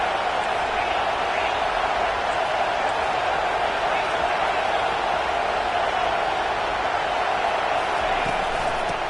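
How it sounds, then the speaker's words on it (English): Dense, steady roar of a loud stadium crowd at a Kentucky vs Texas A&M college football game, a continuous wash of cheering with no pauses. "This crowd, full throat, splitting the eardrums and letting them know it's going to be a long day"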